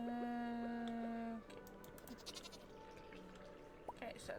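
A goat in the Stardew Valley video game lets out a short, wavering bleat at the start, followed by faint keyboard clicks and soft game sounds, with no talking.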